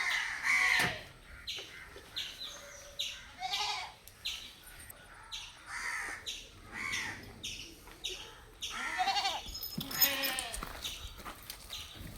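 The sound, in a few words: goat bleating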